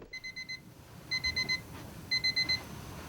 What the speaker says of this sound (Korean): 아침을 알리는 요란한 자명종 소리에 눈을 뜬 이 남자